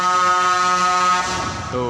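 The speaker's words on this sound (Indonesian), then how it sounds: "Tuh di klakson panjang dia." A vehicle horn sounds one long sustained blast near a monkey and ape breeding facility, a loud buzzy tone that holds for over a second before fading into a rougher tail.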